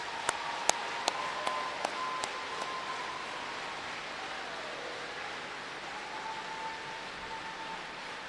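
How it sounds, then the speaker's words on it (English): Applause for the graduates at the close of an Albany graduation ceremony, a soft, steady wash of distant clapping from a large crowd that carries on through the clip, with a few sharper claps standing out early. "Let's give one more round of applause to our graduates."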